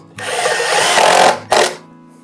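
A cordless power drill with a star-shaped bit driving screws into a wooden birdhouse, a loud whirring burst of about a second, then a brief second spin.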